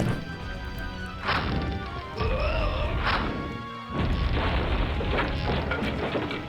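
A Warcraft II cannon tower attacks in the DOS game, firing heavy crashing booms that repeat amid a dense clatter of battle sounds and warbling effects, loud and continuous.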